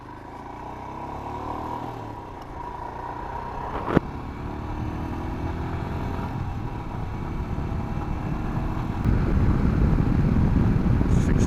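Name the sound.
2021 Royal Enfield Himalayan motorcycle riding and accelerating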